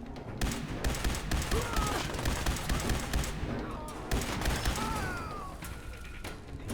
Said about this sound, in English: See those grenades going off?